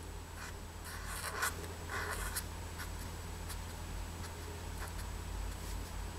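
A pen or marker drawing small bows on a cat's tail on paper, heard as faint, close scratchy strokes in short bursts over a quiet background.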